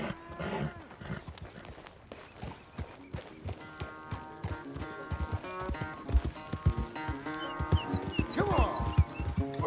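Horse hooves clip-clopping in Red Dead Redemption 2, an irregular run of dull thuds near the listener, set against a busy game soundtrack and ambience and growing steadily louder.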